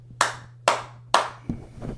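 Four sharp hand claps made to sync a podcast recording, evenly spaced about half a second apart and close to the mic, the last one softer and duller, with a faint steady hum underneath.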